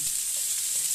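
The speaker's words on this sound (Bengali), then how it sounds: "পেঁয়াজটা আমি দিয়ে নিলাম ফ্রাই করার জন্য" Onion fries in hot oil, a bright continuous sizzle heard up close for a brief moment with no talking.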